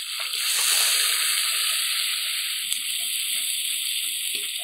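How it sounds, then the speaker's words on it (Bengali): Ground spice paste fries in hot mustard oil with a bright, steady sizzle. It hisses continuously close to the pan, broken only by a faint clink near the middle. "এবার বেটে রাখা সব রকম মশলাটা দিয়ে ভালো করে কষিয়ে নেব"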